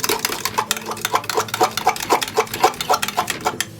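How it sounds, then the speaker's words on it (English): Liquids are mixed into dry ingredients for a 1950s-style light cherry cake in a bowl, with rapid rhythmic tapping and clacking of the mixing utensil against the bowl, steady and close. "Let's add the liquids to the dry ingredients."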